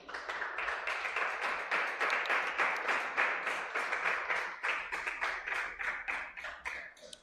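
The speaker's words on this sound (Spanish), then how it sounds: "Den un aplauso al Señor." Church congregation clapping steadily throughout, a dense, continuous round of applause at moderate distance with no talking over it.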